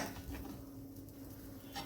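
A spatula stirs fresh green pea paste in a kadai on the stove, giving faint, continuous scraping and soft clinks against the pan, with no talk.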